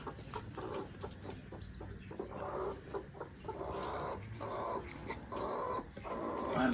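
A hen clucks among her newly hatched chicks at a rural home farmyard, with steady, repeated clucking against a busy, rustling background and no speech.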